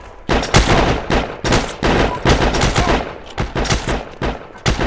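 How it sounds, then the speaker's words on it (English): Rapid rifle gunfire in the shooter game Heroes and Generals, loud bursts of repeated shots fired in quick succession for suppressing fire, close and without talk. "I'm just firing. Suppressing fire, as they would say."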